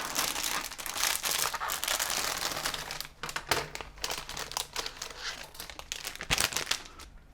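A crinkly plastic parts bag from a Gundam G40 HG model kit being opened, with steady close crackling and crumpling, then a choppier run of sharper rustles and crinkles toward the end, with no speech.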